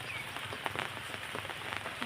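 Light rain patters on surfaces outdoors, a faint, steady hiss dotted with scattered soft drip ticks and no speech.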